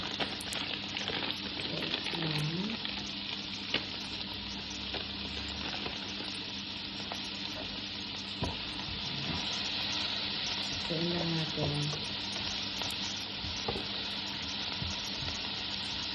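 Diced chorizo sizzles in a pan over a low flame along with onion, a steady soft frying hiss that runs throughout while a person talks intermittently over it.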